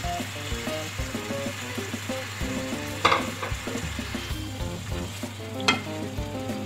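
Browned onions fry in a pot, a steady crackling sizzle under a low continuous hum, with the rhythmic scrape and knock of a spoon stirring and two louder clatters against the metal.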